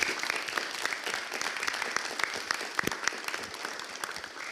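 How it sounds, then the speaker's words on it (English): A conference audience at a PyCon Greece organizers panel gives a round of applause, a dense steady patter of many hands clapping for several seconds with individual sharp claps standing out. "Let's give a round of applause."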